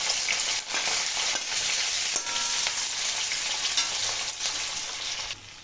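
Crushed garlic and ginger sizzle steadily in hot oil for a beef curry, a bright, continuous hiss up close with brief stirring scrapes and no voices.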